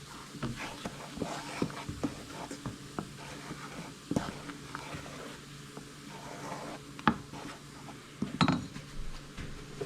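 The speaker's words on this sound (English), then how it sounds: "Give it a good stir." Utensil stirring a trout brine mixture in a pot, with scattered scraping and clinking knocks against the sides, fairly close and moderately quiet, and no talking.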